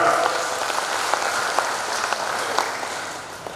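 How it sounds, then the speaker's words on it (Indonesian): Audience applause at a large Sitohang clan assembly in Indonesia, a steady wash of clapping from a big crowd with a few sharper claps standing out, continuous and moderately loud throughout. "Tepuk tangan."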